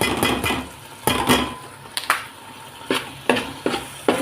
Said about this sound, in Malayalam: ഇത് നന്നായിട്ട് ഇളക്കുക.